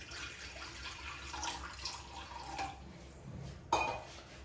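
Water is poured into a kadhai pan on a gas stove for cooking Maggi, heard as a soft, continuous splashing pour close by with light clinks and a sharper knock near the end.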